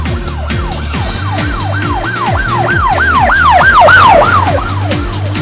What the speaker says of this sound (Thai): เสียงไซเรนขณะที่รถพยาบาลวิ่งเข้ามากับเสียงไซเรนขณะที่รถพยาบาลวิ่งออกไป